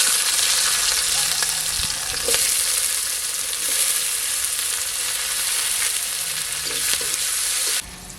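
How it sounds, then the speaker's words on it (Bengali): Chopped onion spiced with crushed cardamom and cinnamon fries in a pan, a dense, loud, continuous sizzle with a few stirring knocks, ending with a sudden drop in level near the end. "এ পেঁয়াজ ভাজা ভাজা হয়ে এসছে"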